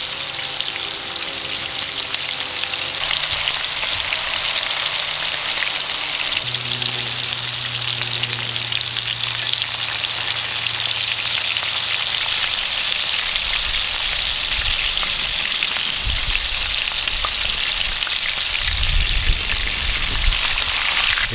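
Rectangular strips of steak for Idaho finger steaks fry steadily in hot oil, a dense, even sizzle that holds loud and close throughout, with a low hum in the background and no voices.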